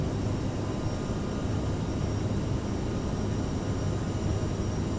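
A CRJ regional jet climbs out of Frankfurt in Microsoft Flight Simulator, its engines a steady, broadband roar with a low rumble that holds at an even level throughout, no voices over it.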